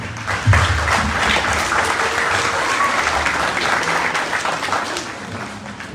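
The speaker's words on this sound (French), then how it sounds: "je voudrais demander de les applaudir très fort." Audience applause at a Malian national day celebration in Belgium, honouring the High Council of Malians in Belgium: dense, loud, steady clapping from a large crowd that holds throughout.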